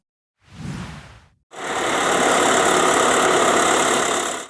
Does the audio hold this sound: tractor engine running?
yes